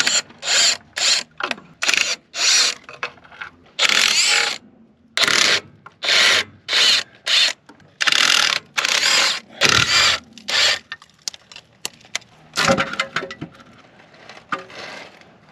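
Oil pan dropped from the engine of a WW2 Ford Jeep left sitting 60 years, heard as a long series of close, loud ratcheting bursts from a hand wrench, rhythmic and choppy with brief pauses, no talking.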